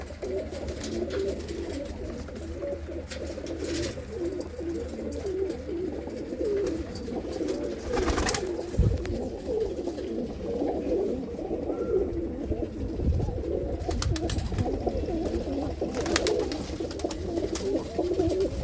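Home-flying pigeons in a loft keep up a dense, continuous murmur of low cooing from several birds nearby, with a few faint knocks.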